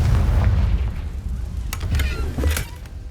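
A Confringo blasting spell goes off in Hogwarts Legacy, giving a deep booming explosion with a rumbling low tail, followed by a few sharp crackling bursts near the end.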